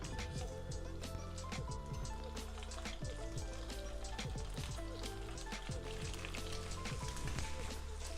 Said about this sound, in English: frying the tofu first